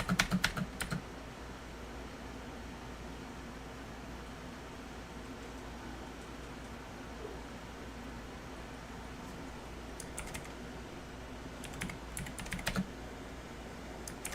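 Keyboard typing on a computer with a non-working spacebar, soft clustered keystrokes near the start and again in bursts toward the end, over a steady low hum of room or fan noise.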